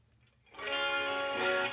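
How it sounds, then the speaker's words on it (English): A Fesley 39-inch LP-style solid-body electric guitar rings out through a shimmer reverb, a bright, sustained chord swelling in after a quiet start and hanging full and steady with an airy, octave-shimmering tail. "It's a shimmer reverb setting."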